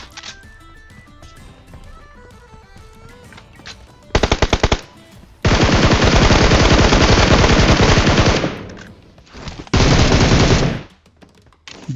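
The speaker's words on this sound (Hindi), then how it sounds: "उसके टीममेट ने भाई साहब हमारे ऊपर फायर चालू कर दी" Rapid automatic gunfire in a mobile shooter game, heard in loud sustained bursts: a short volley, then a long continuous spray of shots, a pause, and another burst, with faint game sounds in between.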